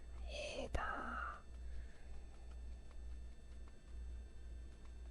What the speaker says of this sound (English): You can hear him breathing.